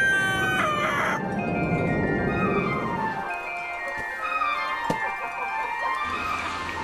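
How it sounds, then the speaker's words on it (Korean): A farm rooster gives a loud, drawn-out crow near the start, with further clucking and fowl calls and a few sharp taps afterward, close by and mostly free of talk. "또 다른 자랑거리는 바로 이 닭입니다"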